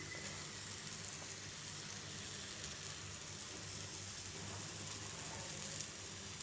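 Spices frying in oil in a pan for a wood apple chutney, a soft continuous crackling sizzle, faint and steady throughout with no talk.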